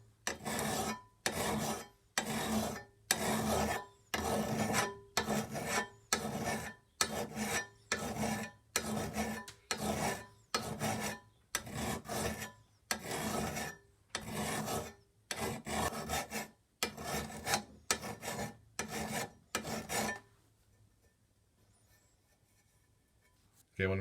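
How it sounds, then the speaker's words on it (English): A hand file rasps across the steel bevel of a lawn mower blade in about twenty rhythmic back-and-forth strokes, loud and close, before stopping and leaving a quiet room. "We are filing."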